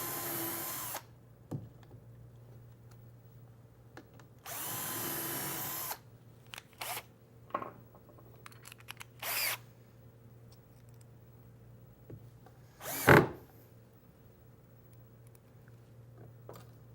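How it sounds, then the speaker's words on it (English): A power drill with a self-centering bit drills holes for cabinet doors in several short whirring bursts separated by pauses, fairly close, with a steady low hum beneath and no talking. "drill my holes"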